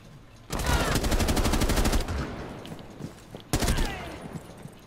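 Rapid automatic gunfire from a shooter video game, a dense burst of shots lasting about a second and a half, then scattered impacts and a second short loud burst near the end.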